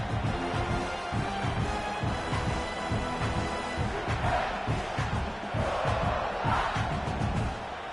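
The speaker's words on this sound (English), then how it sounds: "this crowd is turning it up a notch" Football stadium crowd cheering at a Virginia State game, a loud, sustained roar of many voices with shouts and whoops that swells and rises in waves, with no talk on top.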